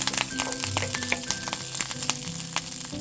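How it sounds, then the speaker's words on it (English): Green chilies and curry leaves sautéing in hot oil in a pan for a South Indian coconut chutney, a steady close sizzle with light stirring clinks throughout. "In the same pan, add a little oil and sauté some green chilies,"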